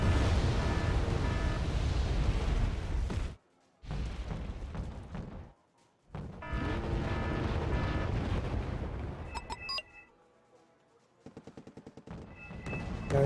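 Buratino rocket artillery firing in the Wargame: Red Dragon video game, loud rumbling salvo blasts with sharp crackling bursts, broken by short silent gaps.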